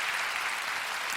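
An audience at a church prayer gathering applauds in a brief, dense wash of clapping, steady and even for about a second.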